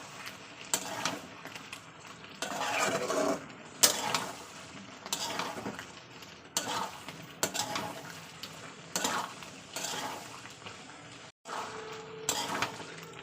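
Potato and bottle gourd with coriander paste are stir-fried in a pan, with rhythmic bursts of spatula scraping and metal clatter over a low sizzle, pausing briefly between strokes, no voices.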